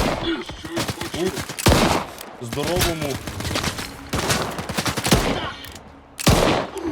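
Loud bursts of gunfire in the game S.T.A.L.K.E.R. 2, several sharp shots spread across the clip, with someone talking over them.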